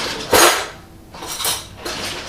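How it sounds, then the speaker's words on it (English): A metal spoon clinks and scrapes against a bowl while scooping a mustard mixture for homemade deviled eggs, three separate bright clattering bursts spaced about a second apart, close and fairly loud with no talking. "Now I'm going to grab a spoon and I'm going to spoon in"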